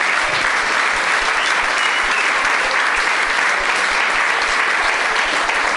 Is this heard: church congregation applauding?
yes